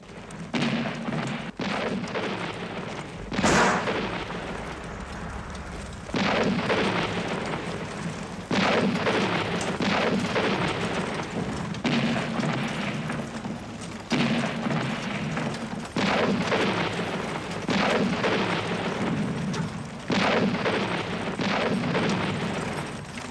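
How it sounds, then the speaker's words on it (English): War-film battle scene from All Quiet on the Western Front (1979): heavy artillery booms land every few seconds over a constant rumble of distant gunfire, loud and reverberant with no talk. "Those deep booms, that's the heavy artillery."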